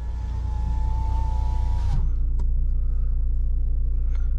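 A Fiat Toro 1.8 naturally aspirated engine drones loudly with a steady low rumble and rising tone, then cuts back abruptly to a lower idle-like hum heard from inside the cab.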